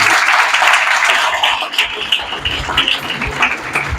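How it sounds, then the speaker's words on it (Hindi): A small audience applauds a successful student at a coaching-institute gathering, with bright scattered clapping that starts strong and thins into uneven claps over a few seconds. "तो एक बार विवेक भैया और जितेश के लिए ताली जरूर होती है।"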